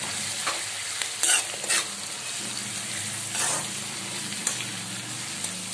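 Fenugreek leaves, bay leaves and whole spices fry in hot oil in a pan, giving a steady close sizzle with occasional stirring scrapes and light crackles, and no voices.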